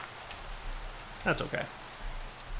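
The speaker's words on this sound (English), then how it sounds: "It's raining anyway." Steady rain hisses through a Minecraft world in the FTB Revelations modpack while someone speaks briefly over it.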